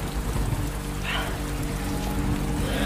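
Night rain pouring steadily, a dense continuous hiss of water on surfaces with no voices.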